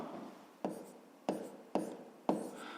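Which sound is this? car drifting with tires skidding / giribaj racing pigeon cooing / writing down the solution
writing down the solution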